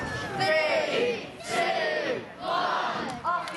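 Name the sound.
crowd cheering at Flamingo Land show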